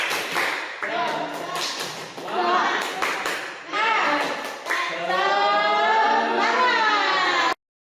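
A class of children does the rhythmic 'tepuk semangat' chant, with patterned claps and sung shouted syllables in quick groups, loud and close throughout, ending abruptly.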